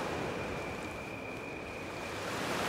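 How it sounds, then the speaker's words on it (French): Sea surf breaks somewhere below a coastal cliff in a steady, dense wash of rushing noise with a faint wind-like whistle, no talking. "Écoute, on entend le ressac. Il y a la mer là-dessous."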